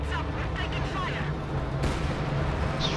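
A strafing run in a World War II strategy video game, with rapid, overlapping gunfire and artillery-like booms in a dense, loud battle mix, while a commentator talks over it.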